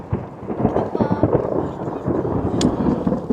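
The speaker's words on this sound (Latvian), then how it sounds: "var dzirdēt, kā smuki zibens ar pērkonas rībina apkārt" Thunder rumbling around a mountain trail from Kuźnice to Czarny Staw Gąsienicowy in the Tatra mountains, a continuous low rolling rumble with a brief sharp crackle near the end, fairly loud and steady.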